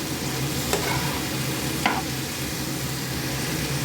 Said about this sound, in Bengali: এটাও মাঝে সাথে নাড়া দিতে হবে আমার